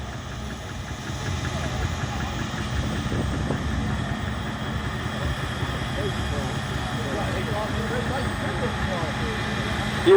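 A Claas combine harvester's engine running steadily at an outdoor agricultural show harvesting demonstration, a constant mid-low drone with an announcer speaking over it throughout.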